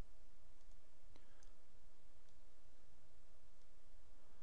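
A single crisp mouse click sounds faintly in a quiet room during a Creo Parametric software tutorial, with another soft tick or two amid faint background hiss.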